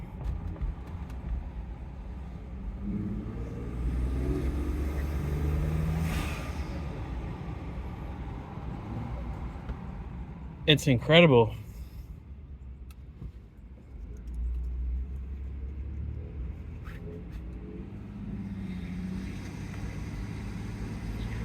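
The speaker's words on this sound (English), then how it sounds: "I've never been able to hear these turbos before." Turbocharged EcoBoost engine on a Ford F-150 fitted with an Injen Powerflow cold air intake, a steady low rumble with a sharp whooshing spool burst near the middle, then settling back to idle, with brief talk in the clip.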